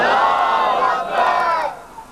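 A large crowd at a religious celebration for Imam Hussain and Hazrat Abbas chants a slogan in unison: a loud, swelling roar of many voices rising in two long surges, then fading out.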